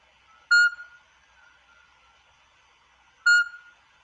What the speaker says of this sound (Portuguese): O som dos sapos parece quase uma máquina eletrónica, parece um som digital.